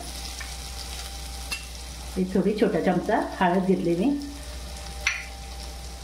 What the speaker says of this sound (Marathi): मिरची आलं याचं शिजवून द्यायचं जरा मस्त वेगळ्याची फोडणी